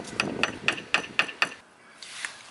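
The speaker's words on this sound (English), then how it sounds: "I'm gonna get a hammer." A hammer taps an outdoor electrical outlet plug into its box, six sharp, evenly spaced strikes in quick succession, close and clear, then a faint knock after a short pause.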